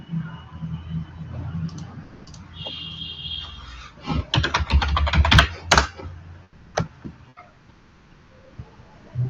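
Keys clatter on a computer keyboard, a burst of rapid keystrokes and a few sharper, isolated presses like an enter key, heard close over low room hum while someone codes.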